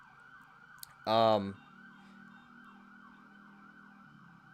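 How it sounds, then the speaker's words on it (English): An emergency vehicle siren wails outside, a steady rising and falling electronic tone held in the background throughout, while someone briefly speaks up close over it. "And here's our first siren, guys."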